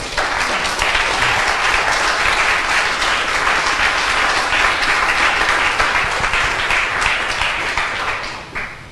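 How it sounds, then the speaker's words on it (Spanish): A church congregation claps loudly and continuously during a Spanish-language sermon, an even wall of applause lasting nearly nine seconds and dropping away only at the very end. "Den un aplauso al Señor."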